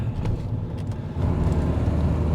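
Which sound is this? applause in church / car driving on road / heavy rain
car driving on road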